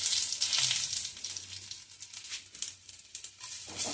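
Whole spices, bay leaf, dried red chillies, two cardamom pods, cinnamon and cloves, crackle and sizzle in hot oil in a pan, a steady close frying hiss with small pops and a few stirring scrapes, no talk.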